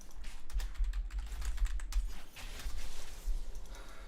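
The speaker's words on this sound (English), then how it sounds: "I don't know why I'm typing to him." Rapid keystrokes on a computer keyboard during a League of Legends stream, a steady run of close, crisp clicks with short pauses, no voices.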